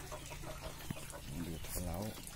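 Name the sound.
bantam chicks clucking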